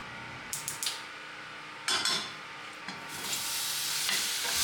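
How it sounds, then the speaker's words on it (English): Diced Italian sausage goes into a cold pan with no oil and is stirred, with utensil clinks and scrapes followed by a growing steady sizzle, close and fairly quiet. "Once diced, we can start by sauteing them."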